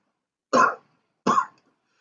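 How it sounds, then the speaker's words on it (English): Two short, sharp coughs close to the microphone, about three-quarters of a second apart, with silence around them. "Hold on, I have to cough."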